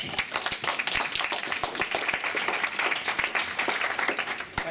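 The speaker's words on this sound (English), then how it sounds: "Give him a good round of applause" Clapping from a modest audience at a broadcasting branch launch event, a lively, close patter of individual claps holding steady for several seconds with no speech over it.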